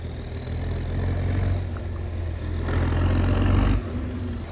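A tractor pulling a side dresser in a field, a low rumbling engine drone that swells as the throttle opens twice, then drops off abruptly near the end, heard from a short distance.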